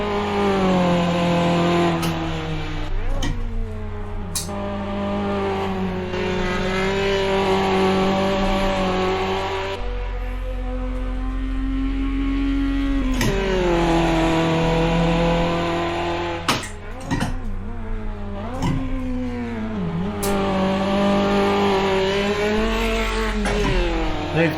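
A race car in Automobilista 2 laps the track, its engine revving up through the gears with rising and falling pitch, repeated upshifts and steady loud drone throughout.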